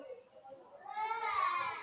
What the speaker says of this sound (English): You can hear the kids crying.